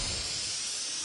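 Fabulous Four buzzer pressed against a locked door gives off a steady, loud, bright hiss like escaping steam, lasting about a second with no pauses.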